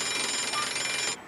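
A bright, continuous electronic ringing from a phone or alarm clock, steady and fairly loud, stopping abruptly near the end with no one talking.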